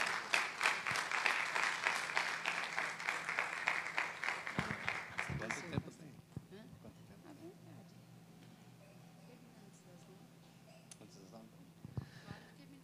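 Church congregation at a theology course graduation celebration clapping to welcome the pastor, loud rhythmic applause for about six seconds that fades out into a quiet hall.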